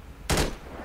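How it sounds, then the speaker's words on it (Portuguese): A single gunshot rings out during a bank robbery shootout in Rio de Janeiro, a sharp close burst followed by a short decaying tail, with no talking. "Tô dando um tiro ali nele."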